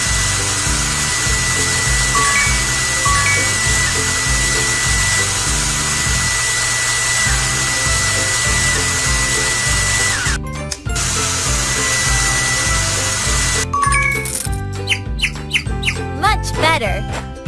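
Hair dryer blowing on feathers in a jungle animal salon game, a loud steady whirring hum for most of the stretch, broken near the end by a cluster of sharp clicks and game effects.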